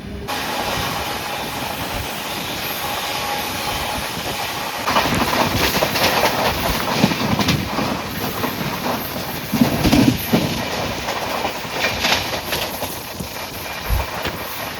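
A Vande Bharat Express runs on rails with a continuous rumbling hum inside the carriage, intermittent rhythmic clicks and louder surges of track noise throughout.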